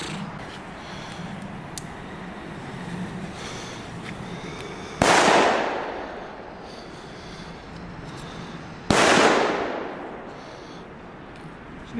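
Heavy Belgian knal firecrackers go off as two very loud, sharp explosions about four seconds apart, each bang echoing away over a low outdoor background with no talking.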